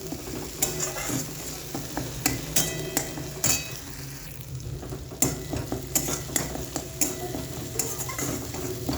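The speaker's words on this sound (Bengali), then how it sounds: "ভালো করে ভেজে নিচ্ছি।" Ginger and green chili paste frying in oil in a pan, with a low sizzle under frequent knocking, scraping strokes of a spatula against the pan in an irregular rhythm, close and fairly loud.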